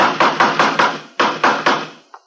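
Hammer blows striking wood while a coaster is built in a radio drama, a close, loud series of evenly spaced heavy knocks with a short pause partway through and a final light tap, with no talk.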